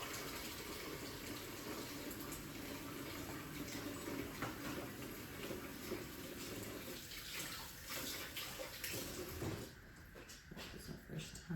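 Tap water runs steadily over fresh thyme at a kitchen sink, a continuous close rushing flow that shifts briefly near the end as the herbs are moved under the stream.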